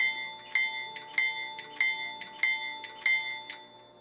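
Sound-equipped Atlas U23B CSX model locomotive plays its bell effect, a small metallic ding repeating in a steady paired rhythm about seven times, quiet and close with no talking.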